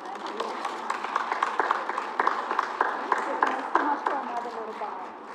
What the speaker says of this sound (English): I just wanted them to have another little round of applause